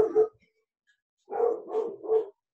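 A dog barks four times, one bark followed after a pause by three quick, loud, close barks in a row, with no talking.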